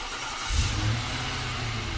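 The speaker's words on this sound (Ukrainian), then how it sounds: "Давайте послухаємо звук вихлопної системи." An Infiniti QX80 SUV engine growls and revs up through its exhaust, a deep steady rumble close by.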